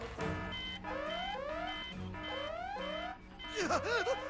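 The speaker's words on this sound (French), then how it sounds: "Toutes les alarmes sonnent!" Several alarms ring together in an animated cartoon, with repeated rising electronic whoops and steady beeping pulses that overlap in a loud, chaotic cycle, followed by a warbling siren-like wail at the close.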